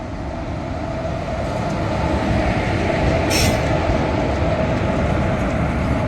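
A Gandhigram–Bhavnagar Terminus Express locomotive rolls past close by with a steady heavy rumble and a brief high metallic wheel squeal midway.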